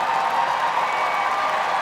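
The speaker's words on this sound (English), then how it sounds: "And the crowd's cheering for the Chesapeake." Crowd cheering and applauding at the Westminster Dog Show for a Chesapeake Bay retriever in the Sporting Group, a dense, continuous roar of clapping and voices filling the arena at a steady level.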